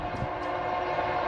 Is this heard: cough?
no